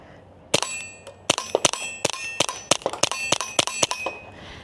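Quiet shots from a .22 Long Rifle handgun with a 4.6-inch barrel and red dot sight ring out in a rapid string of about fifteen sharp, ringing cracks with brief metallic ping, fairly close and crisp.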